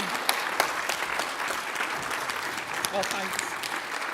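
Conference audience applauding their chair as she takes the stage at an ALT learning-technology conference panel, steady dense clapping throughout, with a brief spoken thanks near the end.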